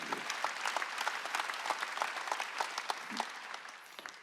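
A church congregation applauds at a Sunday worship service, a steady dense round of clapping from many hands filling the room and tapering slightly toward the end.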